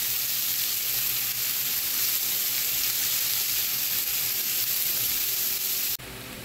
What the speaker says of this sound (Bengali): এখন রসুনের সাথে পেঁয়াজ কুচিটাও ভেজে নিব।